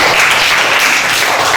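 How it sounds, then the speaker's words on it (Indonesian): Classroom applause during a teaching practice session, loud, even and sustained clapping throughout. "Beri tepuk tangan yang meriah untuk"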